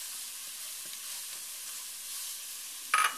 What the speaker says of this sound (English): we're going to let this kind of just toast a little bit with the vegetables